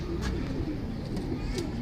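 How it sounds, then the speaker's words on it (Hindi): Low, soft cooing of a teddy pigeon repeats close by in a steady murmuring rhythm over a constant background hum. "टैडी कबूतर है"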